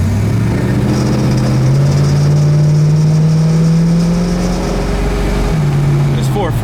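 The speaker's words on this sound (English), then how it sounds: "This 440 sounds great, runs great, nice and smooth." A 1969 Roadrunner's 440 V8 revs up and settles back, its deep engine note rising and falling loud and close throughout.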